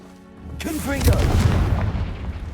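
A Confringo fire spell bursts in Hogwarts Legacy with a deep, loud boom that swells after a short quiet lead-in. A spoken voice rides over the blast as its rumble lingers and fades.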